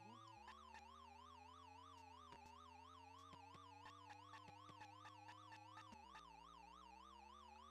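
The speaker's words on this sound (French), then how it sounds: "La sirène est bien présente, casse bien les oreilles." Police car siren from the Chase H.Q. video game, a shrill electronic wail warbling rapidly and steadily over a low droning engine tone, with sharp clicks scattered throughout and no talk.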